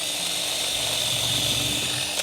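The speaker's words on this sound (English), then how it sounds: "so I'm going to pre-drill just the top piece." A power drill whirs continuously at a steady high pitch for a couple of seconds, pre-drilling through a timber piece, close by and with no talking.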